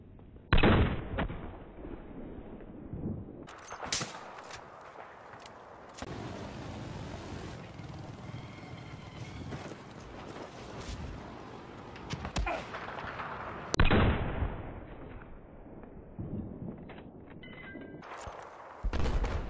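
Gunfire in the Battlefield 4 video game, with repeated sharp shots and bursts across a busy, fairly loud battle mix; no speech is heard.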